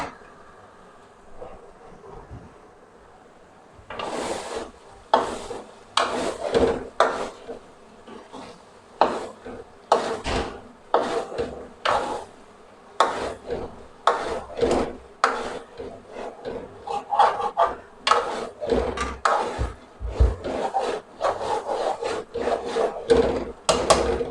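Aloo baingan, a potato and eggplant curry with coriander added, is mixed in a pan. After a quiet start, a spoon scrapes through it in rapid rhythmic strokes, close and fairly loud, and keeps going.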